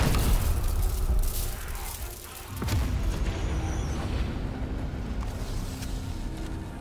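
A strike team's firing explosion in the video game Call of Duty Cold War, a heavy rumbling boom that fades into a lingering low roar, loud and without speech.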